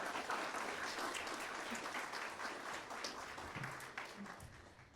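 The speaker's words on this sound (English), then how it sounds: "Please, another quick round of applause for all of the hard work that went into today's marvelous program." A crowd applauds steadily throughout, a dense patter of many hands clapping at moderate distance, fading slightly toward the end.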